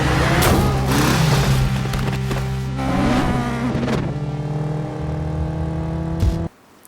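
Cars racing through city traffic in a chase scene from the film Dredd, with a van speeding among them: loud roaring and revving engines, surging and fading, before cutting to near silence at the end.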